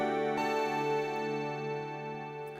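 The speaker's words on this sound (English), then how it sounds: "on the right hand side I have some synth bells" Synth bell patch on a Yamaha Montage M keyboard, a sustained shimmering chord of bright metallic partials ringing steadily and slowly decaying, played alone at moderate level.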